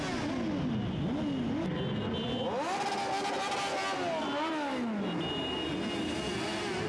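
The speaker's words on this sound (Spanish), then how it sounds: "conquistado por el ruido solidario de los motores y de las dos ruedas" Motorcycle engines rev and rumble in a charity Santa Claus parade through a city centre in León, with rising and falling engine tones and steady crowd noise around them.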